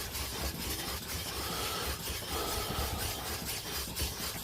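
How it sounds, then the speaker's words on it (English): A diamond stone is rubbed back and forth across a natural sharpening stone to raise a slurry, making a steady, close, gritty scraping with a faint rhythmic pulse of strokes and no talk. "Let me take my diamond stone. Just build a little bit of a slurry on the surface here."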